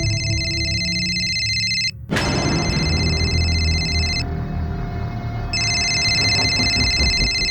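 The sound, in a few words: phone ringing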